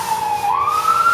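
An emergency vehicle siren, apparently an ambulance, wails as a single steady tone that bends upward partway through, heard at moderate distance with no talking.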